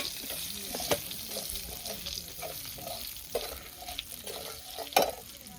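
Masala frying in a pan while a spoon stirs it, a steady soft sizzle broken by occasional scraping clinks of the utensil against the pan, close and alone with no talking.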